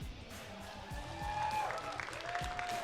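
Faint crowd applause and scattered cheering at a racing finals event, soft clapping with a few whistles and tonal sounds mixed in, distant and low in level.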